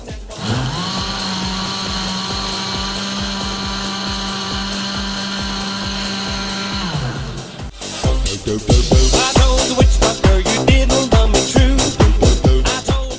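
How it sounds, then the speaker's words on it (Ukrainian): An electric blender whirs steadily at high speed mixing a chocolate milkshake of milk and ice cream for about seven seconds, then cuts off, followed by a rapid series of sharp clattering knocks. "Е, це у нас пристрій, який називається блендер. Ми його використовуємо, щоб змішувати змішувати інгредієнти."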